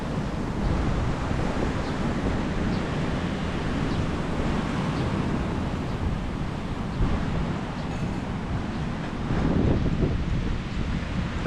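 Waves and wind on Kamala Beach in Phuket, Thailand: a steady, dense roar of surf with gusty wind buffeting the microphone, continuous throughout and swelling slightly near the end, with no voices.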